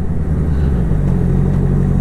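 A Triumph Scrambler 400X motorcycle ridden along a mountain road toward Shimla, its engine droning steadily and close up with a low, continuous rumble and no talk over it.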